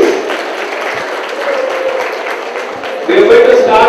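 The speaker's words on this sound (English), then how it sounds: "Mr. Shehzad Naqvi, give a big round of applause, please." Audience applause at a graduation ceremony, a steady wash of clapping from a large hall crowd that swells louder toward the end, with a few faint voices underneath.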